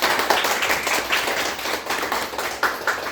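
A church congregation applauding during a Sunday worship service, a steady round of hand clapping from many people that stays moderately loud for a few seconds before easing off.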